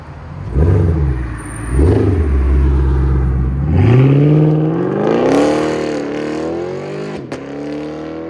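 A loud 2021 RAM 1500 5.7L Hemi V8 pickup with X-pipe and straight-pipe exhaust rumbles, revs up and roars away, its deep exhaust note climbing as it accelerates into the distance.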